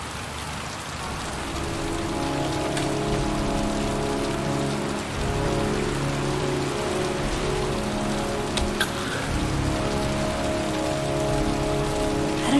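Rain falling in a video game, a dense, steady hiss of drops on surfaces with a low ambient hum beneath, continuous and fairly loud, with no speech.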